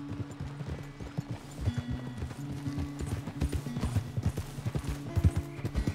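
Horse hooves gallop in Red Dead Redemption 2, a steady rapid clip-clop rhythm up close, with a brief whinny and low background game sound.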